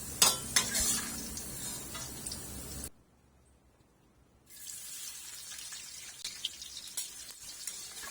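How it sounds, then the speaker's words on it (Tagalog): Hotdogs frying in a pan: loud sizzling and stirring at first, a short near-silent gap, then softer steady sizzle with occasional pops. "dito na rin natin piprituhin yung ating mga hotdogs"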